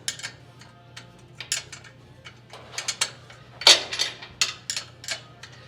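A socket wrench ratchets on small 5/16 carriage bolts holding the headlight stands to the frame horns of a roadster, making quick clicking bursts and metallic clinks at close range over a low background hum.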